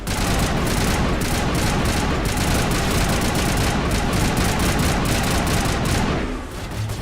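Dense, sustained video-game gunfire from Mass Effect Legendary Edition, a continuous loud barrage of rapid shots and impacts that fills the whole stretch before easing off slightly at the very end.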